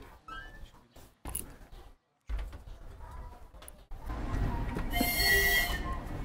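A TU-10 diesel locomotive on a children's railway in Irkutsk, running with a rumbling engine and rolling wagons that build to a loud, close roar with a high squeal toward the end.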